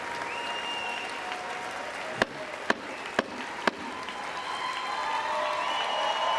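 Dense, sustained applause from a large audience at the 2024 State of the Union address, steady and loud throughout with a few sharp, distinct claps standing out midway.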